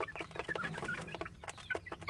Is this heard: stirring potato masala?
no